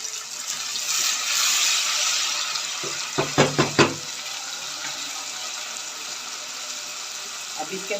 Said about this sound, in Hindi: अब मैं इसमें 2 से 3 चम्मच डालूंगी पानी।